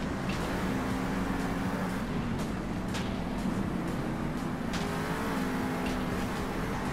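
Monster trucks from Monster Jam Steel Titans 2, among them Higher Education, Grave Digger and Monster Mutt, roar off together in a circuit race, a steady dense engine drone with rising revs and tonal whine running throughout.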